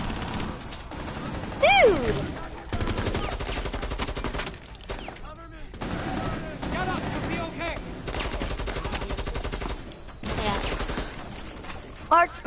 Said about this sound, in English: My teammate shot me, so I shot him.